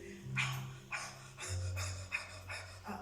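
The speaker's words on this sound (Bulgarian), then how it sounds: "леко ускорявате дишането" Rhythmic quickened breathing, about five or six audible breaths in three seconds, as women speed up their breathing during a guided breathing exercise on stage, with a low steady tone underneath.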